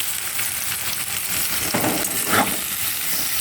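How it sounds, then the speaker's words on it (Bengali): Onions and green chillies frying in a pan for vegetable chowmein, a steady, close, loud sizzle with a brief swell as they are stirred, no voices. "একটা একটা করে দিয়ে আমি হালকা হালকা করে একটু ফ্রাই করে নেব"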